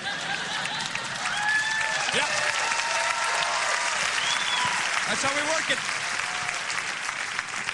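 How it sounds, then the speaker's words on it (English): A studio audience at a live podcast show applauds steadily for several seconds, a dense bed of clapping with light chuckles, while someone speaks briefly over it. "You hear them applauding."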